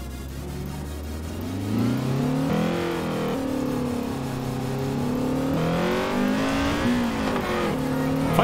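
A Forza Horizon 4 car engine revs and climbs through the gears, its pitch rising and dropping with each shift into a sharp high-rev VTEC wail.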